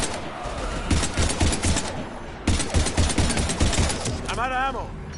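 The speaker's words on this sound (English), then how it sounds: "We're taking heavy fire." Heavy automatic gunfire in Mass Effect 3 during a fight against Husks, loud rattling bursts in two waves with a brief gap between, and a voice speaking near the end.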